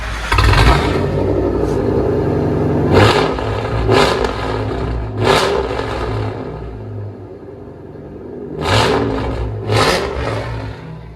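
A gas 2002 Ford F-250 with a 5.4L Triton V8 and a deleted muffler idles with a deep, loud rumble, broken by several sharp throttle blips that rise and fall, the last two coming close together near the end.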